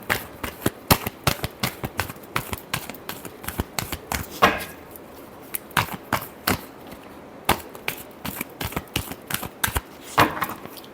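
A deck of tarot cards is shuffled by hand in a quiet room, producing repeated close, crisp riffling and slapping bursts in a quick irregular rhythm with short pauses.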